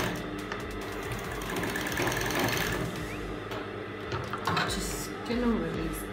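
A flat bed industrial sewing machine runs close by with a steady mechanical whir and rapid needle ticking, and a voice is heard at times.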